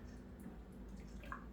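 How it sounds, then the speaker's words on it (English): Water from a running shower hisses steadily in another room, faint and continuous, with a few soft splashes and drips. "Oh, somebody's in the shower."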